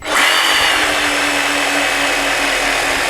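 A DeWalt DCS331 cordless jigsaw cuts at speed setting 3, giving a loud, steady, high-pitched motor whine with a continuous rasping blade buzz that holds unbroken for about three seconds.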